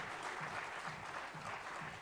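A conference audience claps in a steady, fairly faint wash, heard from a distance for a couple of seconds with no talk over it.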